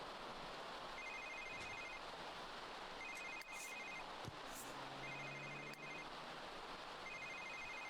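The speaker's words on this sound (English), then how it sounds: "We got a phone call." A telephone rings in The Sims 3 in evenly spaced bursts of bright electronic trills, about every two seconds, over steady background noise.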